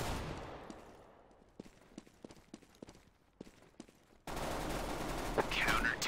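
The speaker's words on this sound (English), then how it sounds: "Bomb sound." A bomb explodes in the video game Counter-Strike, arriving abruptly as a loud, sustained roar that swamps everything after a stretch of scattered sharp clicks and faint game sounds.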